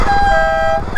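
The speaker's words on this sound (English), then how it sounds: "this exhaust is so freaking loud!" A modified fast riding lawn mower engine blares through its exhaust, a loud, close, buzzing drone with a steady tone for about a second.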